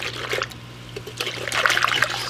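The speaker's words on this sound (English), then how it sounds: "I'm whisking the sugar, the water, and the starter" Sugar, water and sourdough starter whisked together in a bowl for bagel dough, a close, wet swishing and trickling that builds in intensity, with no talking over it.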